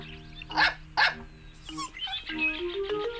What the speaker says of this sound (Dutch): Snuffy stopt bij het keukenraam en blaft.